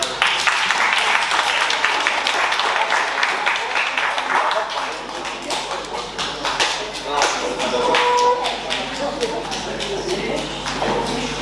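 An audience claps for children at a kids' show, with dense, steady applause that tapers slightly and is mixed with scattered voices and crowd noise.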